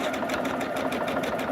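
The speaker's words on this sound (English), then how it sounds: "It is so much nicer, Denise, when you don't have to like unthread your machine to wind your bobbins" A sewing machine winds a bobbin with a steady, fast mechanical whir and rhythmic ticking, continuous and close, with no talking.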